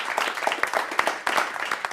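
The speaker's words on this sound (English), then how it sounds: "can we get a round of applause for that?" Audience applause at a panel discussion on climate change, youth and the UN: a dense, steady patter of many hands clapping, fairly close and sustained for the full two seconds, with no talk over it.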